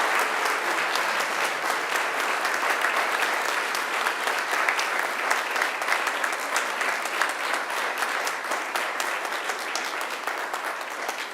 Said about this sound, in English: And now I invite you to give them a mighty round of applause.